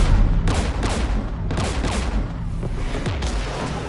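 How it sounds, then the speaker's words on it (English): Heavy, sustained gunfire in the sci-fi shooter Mass Effect 3 as a dense barrage of rapid shots and booms, loud and continuous, with no voices over it. "We're taking fire."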